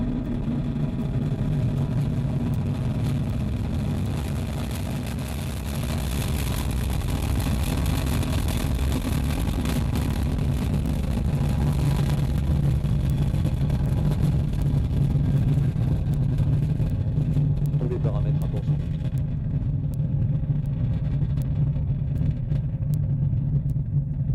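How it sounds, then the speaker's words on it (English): Ariane rocket liftoff as the Vulcain engine and EAP solid boosters ignite, a sustained heavy roaring rumble that swells and holds for over twenty seconds, distant yet powerful, with no voices. "Allumage Vulcain. Allumage EAP, décollage."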